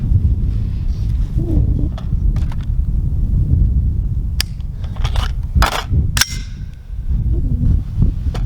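Sharp gunshots from a Ruger 8542 target rifle ring out at an outdoor range: a few loud, isolated cracks spaced unevenly over a steady, rumbling wind-noise background.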